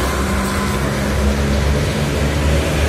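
A Sahira Dewa bus from Cibitung rolls along the Cipali toll road, its heavy engine giving a steady low rumble mixed with broadband road and wind noise, close and continuous throughout.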